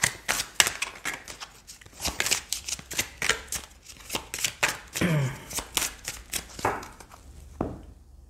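Oracle cards being shuffled by hand, a long run of quick riffling flicks and soft slaps, close and fairly quiet, with a faint voice briefly near the end.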